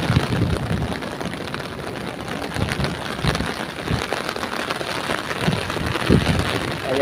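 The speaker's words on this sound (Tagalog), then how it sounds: "Lumakas na nga ang ulan." Steady heavy rain pours down, a dense hiss with scattered drops pattering close by and a faint wind rumble underneath, no voices.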